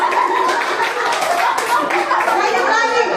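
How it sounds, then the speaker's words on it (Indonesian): Applause for Bu Sandy in a lively group, a dense patter of hand clapping with children's voices, chatter and some laughter mixed in, loud and close throughout. "Tepuk tangan dulu buat Bu Sandy"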